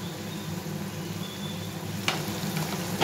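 Steady sizzling of spices frying in a hot pan, close up, with a brief clatter of stirring partway through.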